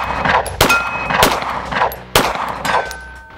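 Three sharp, loud shots from a Springfield Prodigy pistol at a range, evenly spaced with ringing tails, with no speech.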